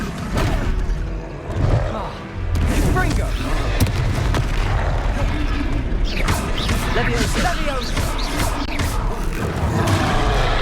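Confringo spell explosions go off during a Hogwarts Legacy fight in Hogsmeade, with a heavy blast that kicks off a dense, loud barrage of booms and crackling impacts, and voices mixed into the battle noise.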